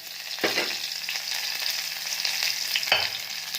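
Food tempering in ghee gives a soft, steady sizzle, with two brief sharper bursts of spattering as ingredients hit the hot fat. No one speaks.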